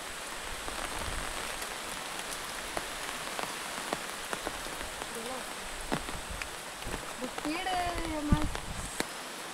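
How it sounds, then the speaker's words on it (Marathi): Heavy rain falls outdoors in a steady wash of patter, with scattered louder drops and splashes. Voices talk intermittently underneath. "पाऊस खूप आलाय, त्यामुळे पाणी पण वाढलंय खाली"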